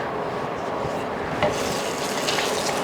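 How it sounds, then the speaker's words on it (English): A little oil swirled around in a hot skillet gives a steady, even hissing sizzle with a faint scraping texture, close and continuous with no speech. "So now the pan is hot again, and I'm going to add a little bit of oil. Swish it around."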